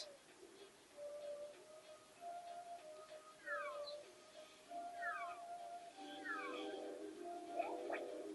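Meowth cries from the Nintendo 64 game Pokemon Snap, a string of short, faint, tonal meows repeating over a quiet background.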